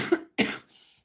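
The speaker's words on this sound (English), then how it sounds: "Just clear my throat there." A single throat clearing, close and fairly loud: a short rasp followed by a longer, harsher burst, then quiet.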